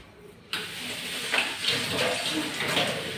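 Running water from a kitchen tap washing fresh mutton in a village home, a steady broadband splash that starts abruptly and continues evenly, with small surges as the meat is moved under the stream.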